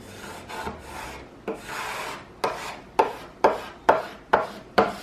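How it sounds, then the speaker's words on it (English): A Cricut scraper tool rubs and presses tape down onto a wooden cornhole board in a series of short, close, rasping strokes, about eight firm passes growing more distinct and regular toward the end. "I'm just using my Cricut scraper tool to ensure that the tape is really adhered into the board"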